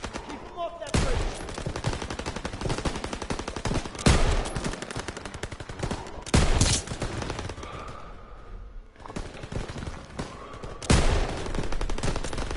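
Machine guns opening fire in a WW2 battle near a bridge over the Seine, long loud chattering bursts broken by a few sharp blasts and short pauses, close and harsh throughout.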